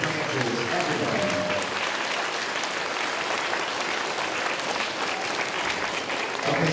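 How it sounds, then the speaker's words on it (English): A school assembly crowd of students claps loudly and continuously for military veterans, a thick wash of applause that holds steady for several seconds while an adult speaks over it near the end. "Can we have a big round of applause for all 5 of the military branches, everybody?"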